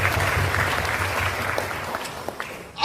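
Audience applause fills a hall at a DXN motivational seminar, a steady dense clapping that holds strong and fairly close for nearly three seconds before breaking off.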